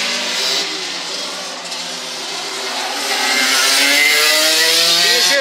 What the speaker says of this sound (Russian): за счет лучшего выхода и более мощного мотора снова вернул себе позицию Сергей Лачин